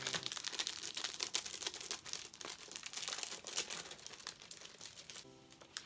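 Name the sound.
art print being taken out of plastic sleeve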